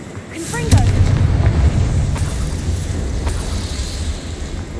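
A Confringo fire spell blasts in Hogwarts Legacy, a loud booming explosion followed by a sustained rumbling roar that stays dense and heavy throughout.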